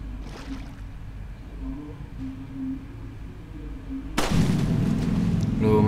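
Gunfire in the video game Resident Evil 4, a dull boom early on, then a loud sharp blast near the end over a low steady game background hum, with no speech.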